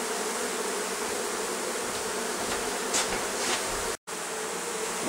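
Honeybees swarm and buzz during a removal from inside a house wall in Oakland, a close, continuous drone of many wings with a few sharper rises and one brief dropout near the end.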